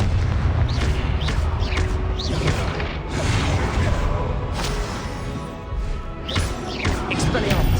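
Repeated blasting spell explosions in Hogwarts Legacy, a series of loud booming bursts and crackling impacts spread across the stretch over continuous rumbling combat noise.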